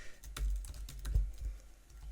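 Quiet typing on a computer keyboard while coding, a quick run of soft, close keystrokes over a low hum, with no voices.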